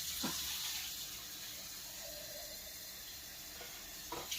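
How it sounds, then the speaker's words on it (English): Water running from a tap and poured into a pot roast cooking on the stove, a steady broadband hiss and trickle lasting throughout, moderately near with faint splashes at the start and end. "I'm going to add just a little bit of water with it."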